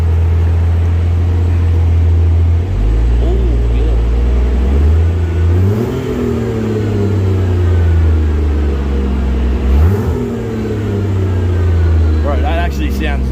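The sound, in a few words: Barra-swapped Toyota JZX100 engine revving on throttle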